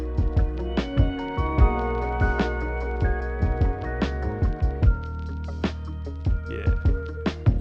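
A smooth hip hop beat built on an MPC 3 from vinyl samples, with the newly recorded bass line now added; steady punchy drum hits loop under layered melodic tones and a deep sustained low end, with no talking.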